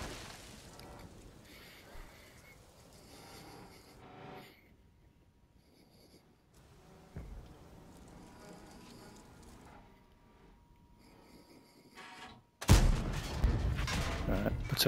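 World of Tanks M46 Patton cannon fire: one sharp, loud blast near the end after a stretch of quieter battle ambience with distant thumps, no talking.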